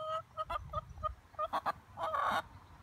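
Chickens in Wales, apparently waiting for food, give a run of short, close, honking clucks and squawks in irregular bursts, ending in a longer, louder call.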